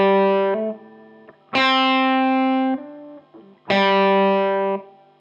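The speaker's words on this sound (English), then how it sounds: "You'll know if you're not hammering hard enough because it will sound like this." An electric guitar with a distorted, effected tone plays weak hammer-ons: three picked notes ring out, each followed by a hammered second note that rings faintly and dies away quickly. No other sounds accompany the guitar.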